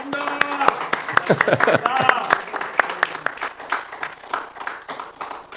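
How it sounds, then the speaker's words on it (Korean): Scattered hand clapping from a Korean Baptist church congregation during a Sunday service, mostly men, uneven and sparse, with individual claps standing out over talking and voices. "한번 박수 한번"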